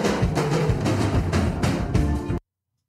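A dense, loud drum beat from a song plays with rhythmic pulsing hits for a little over two seconds before cutting off abruptly into silence.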